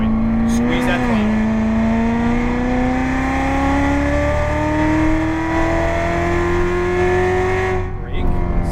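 Corvette Z06 engine accelerating hard on the Las Vegas Motor Speedway track, a loud, close, steadily rising roar that climbs through the revs for several seconds before easing off near the end.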